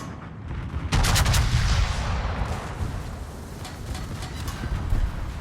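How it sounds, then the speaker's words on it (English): A naval gun volley from the World of Warships battleship Massachusetts B, a loud booming salvo that hits sharply and then rolls into a long reverberating rumble with scattered later thuds. "I was kind of expecting to sink him with that volley"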